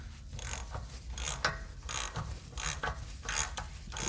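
A ratchet wrench clicks in quick bursts while tightening wheel hub bolts on a 2009 BMW 750i during a rear hub and bearing replacement, up close in a workshop with no talk.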